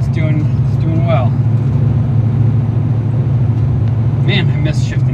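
A 1969 Camaro with a four-speed manual and fresh clutch drives along, its steady low engine drone filling the cabin throughout while someone talks briefly over it near the start and end.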